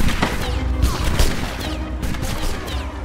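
Musket volleys crackle in a Napoleonic Wars video game battle, with dense, overlapping loud shots rattling continuously and a few heavier bursts standing out, with no talk over them.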